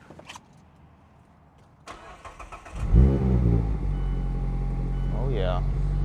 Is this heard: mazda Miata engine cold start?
yes